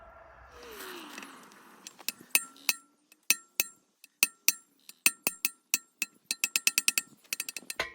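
A hammer strikes a hot cut chisel cutting a steel bar at the forge, sharp ringing metallic blows, sparse at first then quickening into a rapid, fairly loud series.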